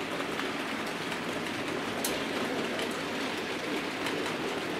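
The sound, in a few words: model Class 73 locomotive running on the track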